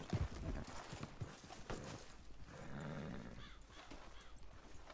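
Video game horse hooves clip-clop in a quick, uneven run of hits, quite close and moderately loud, with brief snorting or whinny-like bursts mixed in.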